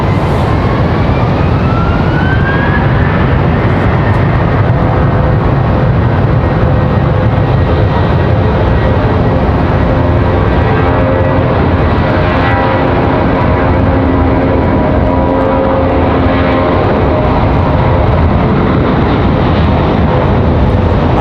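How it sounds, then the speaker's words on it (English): An Airbus A321 departing Raleigh-Durham airport, a loud, sustained jet engine roar with a rising whine near the start, continuing strongly throughout. "Sounding A321 departure."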